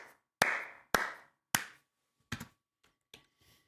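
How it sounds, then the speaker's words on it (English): Short bursts of applause from the 1988 Sierra adventure game Leisure Suit Larry 2 on a game-show stage: six sharp, clap-like synthesized hits spaced about half a second apart, loud at first and fading weaker toward the end, with no talk. "A little applause."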